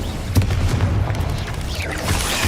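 Dull booming spell blasts from Confringo and Bombarda curses in Hogwarts Legacy, a few muffled thuds over a steady low rumble of combat.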